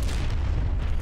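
A helicopter blowing up in the video game Call of Duty Black Ops Cold War, a dense low booming blast with rumbling tail filling the whole short moment, loud and close.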